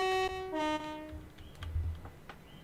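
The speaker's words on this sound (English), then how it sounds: "Let's watch the train leaving." A train in the Train Sim World 2 game on the Brighton Main Line's Reigate branch sounds a couple of short horn toots, then low rumbling as it starts to pull away, fairly faint.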